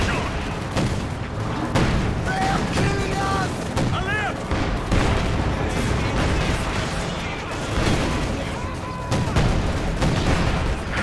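Gunfire and artillery in the Company of Heroes 2 video game keep up a dense, loud battle din, with booming blasts and bursts of shots. Sharp tonal unit callouts and a caster's voice come through now and then.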